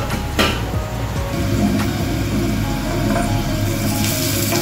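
Potatoes fry lightly in a pan for Kolkata-style mutton biryani. A steady, close sizzle runs throughout, with a few clinks of utensils.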